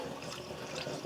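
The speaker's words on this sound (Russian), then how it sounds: "Нальем полное ведро." Water pouring steadily into a bucket as it is filled with clean water to boil used coconut charcoal from an old filter, a continuous close splashing flow with no talk.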